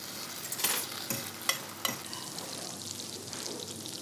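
Monkfish coated with mustard warms gently in olive oil in a sauté pan, producing a soft, even sizzle with a few light stirring scrapes and knocks, fairly quiet and close.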